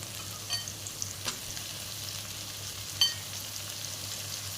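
Tomatoes sizzle in a pan with fried onions, a steady soft frying hiss with a low hum beneath and a few faint stirring clicks, no voices.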